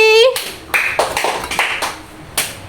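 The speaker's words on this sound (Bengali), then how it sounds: "আবার হয়েছে, রিয়ার জন্য জোরে হাততালি।" Children clap for Riya during a bottle flip game at a Rath Yatra celebration, with a short burst of claps after a high call and scattered claps following, mixed with voices.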